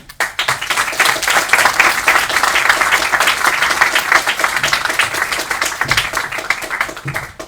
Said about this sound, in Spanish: pido por favor un fuerte aplauso